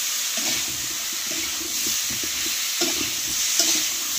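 Vegetables frying in a pan, seasoned with ground cumin, give a steady close-up sizzle and hiss throughout, with occasional scrapes and stirring clatter from a utensil.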